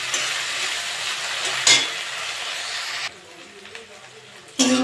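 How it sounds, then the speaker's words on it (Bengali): Shrimp frying in a pan for a kakrol (spiny gourd) and shrimp dish, a steady close sizzle with a sharp stirring scrape midway, then a quieter stretch and a fresh burst of sizzling at the end. "চিংড়ি মাছটা একটু ভেজে নিয়েছি।"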